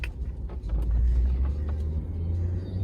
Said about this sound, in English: Your first car ride. Yay! We're on the way home, buddy. Daddy's driving.